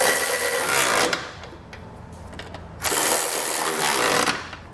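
Ratcheting 19mm socket snugging down trailer hitch bolts on a 2010 Toyota RAV4, heard as two loud bursts of dense rapid clicking with a quieter pause between them, close up with no talk.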